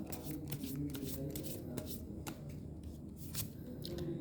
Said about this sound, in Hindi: ओके, मैं एक कार्ड निकाल लेती हूँ।